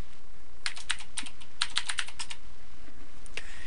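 Clicky computer keyboard keys tapped in two quick bursts as a login and password are entered, close and crisp with a short pause between the runs and a final keystroke.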